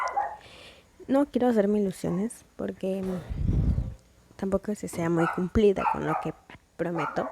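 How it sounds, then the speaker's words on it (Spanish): A pet dog barks in a burst of yips and woofs midway, heard indoors behind someone speaking Spanish, who talks steadily before and after the barking. "perdón por el perro"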